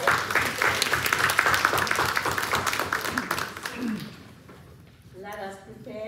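Church congregation applauding during an in-person worship service, dense sustained clapping that fades out near the end, mixed with voices.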